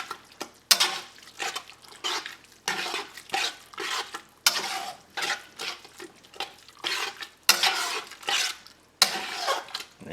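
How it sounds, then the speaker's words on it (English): A spoon works through creamy seafood pasta with lobster bisque in a pan, giving loud, rhythmic wet scraping strokes that come in regular bursts with short pauses between them and no talking. "Give that a good mix."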